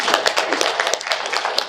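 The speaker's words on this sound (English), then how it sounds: "I actually applaud those people, so give them a round of applause" A small audience at a multifamily real estate talk claps for people holding full-time jobs, giving sparse, individual hand claps in an uneven rhythm, close and fairly bright.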